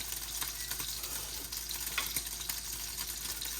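Chicken sizzling and frying in a pan set on a Jeep's engine manifold out on the trail, a steady close crackle with brief sharper pops and no talking.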